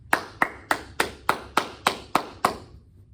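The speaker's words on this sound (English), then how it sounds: "give our teachers a big round of applause." Eight sharp, evenly spaced claps ring out close and clear over about three seconds, a steady rhythmic clapping rather than broad crowd applause, offered for teachers during a state FFA convention general session.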